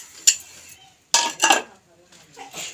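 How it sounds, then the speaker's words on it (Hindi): Pots, pans and cutlery clinking and clattering in intermittent bursts during dishwashing in a Pakistani village home, with a voice speaking faintly between the knocks. "मैं धोन लग गई बर्तन"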